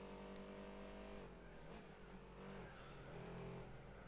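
A rough-sounding Volkswagen Lupo GTI engine in a Gran Turismo 4 racing game revs steadily, its pitch dipping and climbing again, loud and close with no talking.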